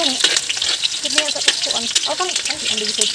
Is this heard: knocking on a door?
no